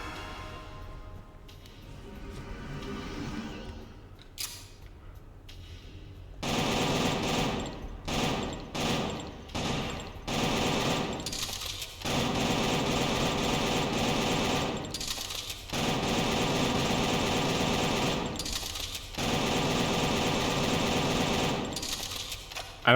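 Rapid gunfire in the video game Killer7, with dense, sustained bursts of shots broken by brief pauses, loud and continuous for most of the stretch after a quieter opening.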